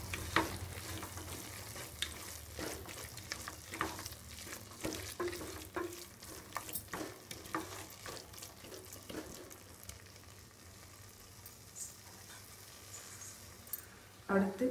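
Ground masala spices (turmeric, chili powder, garam masala and coriander powder) fry on low heat in a pan for mushroom biryani, giving a soft, steady sizzle with intermittent stirring scrapes while someone talks.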